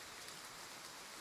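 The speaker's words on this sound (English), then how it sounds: "the sound of rain once again fills our ears" Steady rain falling in the video game Love and Deepspace, a soft, even hiss that fills the whole clip at low volume with no voices.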